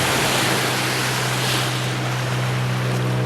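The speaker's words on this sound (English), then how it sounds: "The only thing I can hear during our walk is the waves crashing." Waves washing onto a Lake Michigan beach in Norton Shores, Michigan, a steady, loud broadband roar with a low wind-like rumble throughout, no voices.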